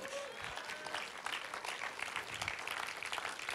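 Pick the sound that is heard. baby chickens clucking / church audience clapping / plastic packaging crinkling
church audience clapping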